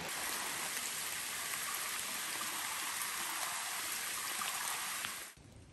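Steady rain falling along a hiking trail on a rainy day, a dense continuous hiss of drops on surfaces like a nearby stream, holding evenly before cutting off at the end.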